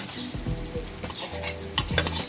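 Chicken karahi with coriander stirred in a pan, a spoon scraping and turning the pieces over a steady sizzle, close and continuous with a few sharper scrapes, and no voices.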